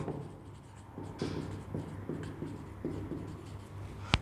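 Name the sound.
writing an equation by hand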